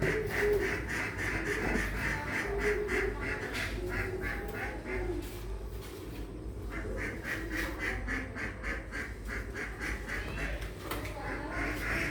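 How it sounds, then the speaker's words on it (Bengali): Ducks and chickens clamor for food in a busy, continuous chorus of quacking, overlapping calls rising and falling steadily against a rumbling outdoor background. "আমাদের হাঁস মুরগি খাবারের জন্য ব্যস্ত হয়ে পড়েছে"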